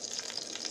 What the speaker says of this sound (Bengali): দিয়ে মশলাটাকে একটু ভাজা ভাজা করব।